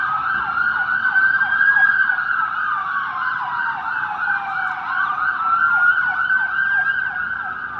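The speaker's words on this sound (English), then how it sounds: "I think it's an ambulance." An ambulance siren wails past along a riverside walk in Tampa, a loud rising-and-falling electronic tone that sweeps repeatedly and shifts in pitch as the vehicle moves by, over faint road noise.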